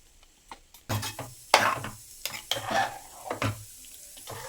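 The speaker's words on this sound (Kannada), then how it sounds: "ಈಗ ಚೆನ್ನಾಗಿ ಮಿಕ್ಸ್ ಮಾಡೋಣ ಇದನ್ನ" A spoon working through thick bisi bele bath with capsicum in a large pot, giving a series of irregular wet scrapes and thick squelching stirs, fairly close, with quiet gaps between strokes and no voices.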